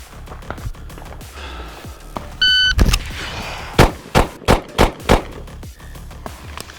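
A handgun fires five quick rounds at 5 yards in a concealed carry shooting drill. The loud, sharp shots come evenly spaced just after a short electronic shot-timer beep.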